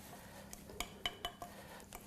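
Spatula scraping and tapping against a mixing bowl while folding wet muffin ingredients into dry ones, a handful of light clinks and soft stirring sounds, close and quiet.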